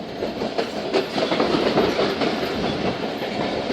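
The Thal Express passenger train rolls past on the track with a steady loud rumble and repeated clickety-clack of wheels over rail joints, continuous and close throughout, no voices.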